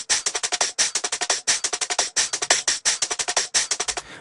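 A neurofunk drum and bass top-layer loop with trimmed snares: rapid, tightly gated bright hits in a driving syncopated pattern, loud and dry, repeating with short gaps and no voices.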